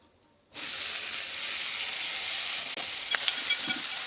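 Tomato drops into hot oil with frying onions, green chillies and curry leaves, starting a sudden loud sizzle after a brief quiet that holds steady, with a few faint clinks near the end.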